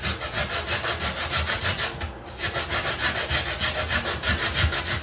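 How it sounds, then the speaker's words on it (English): Coconut is grated by hand for Jamaican sweet potato pudding, a fast, even rasping rhythm of scraping strokes, loud and close, with a brief pause near the two-second mark before the strokes resume. "Now you want to grate your coconut"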